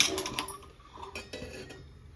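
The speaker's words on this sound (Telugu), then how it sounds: "స్టవ్ వెలిగించుకుని గిన్నె పెట్టుకుని" A metal pot is set on a lit stove, giving a quick series of clinks and clatters, several sharp metallic knocks close to the listener in a quiet room, with no speech.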